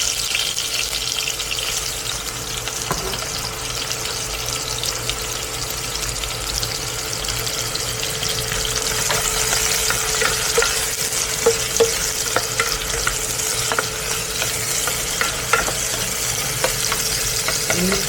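Onion and garlic fry loudly in a pan for pakbet, a dense, continuous sizzle with scattered crackles and pops that grow busier over eighteen seconds, close and without talk.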